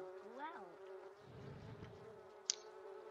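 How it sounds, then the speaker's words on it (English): Bees buzz in The Sims 3, a faint, steady, drone-like hum with a wavering tone, joined by a brief sharp click partway through, with no talk over it. "Oh, those stupid bees. They're so annoying."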